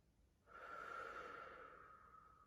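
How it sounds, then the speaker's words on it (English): A single slow exhale, soft and close, starting abruptly and tapering off gently over about two seconds during a relaxation breathing exercise. "So breath in and out."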